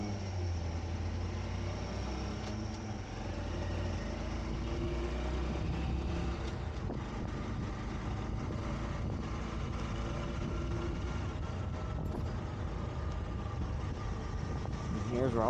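A Honda Trail 125 motorcycle ridden at night toward a city downtown gives a steady low engine drone mixed with broadband wind rush, continuous and fairly loud throughout.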